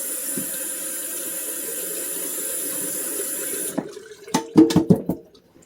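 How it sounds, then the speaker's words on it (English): Kitchen tap runs steadily while hands are rinsed under it, a close, even stream of water that stops partway, followed by a few sharp splashes and knocks near the sink. "let me rinse my hands off and we'll get at it."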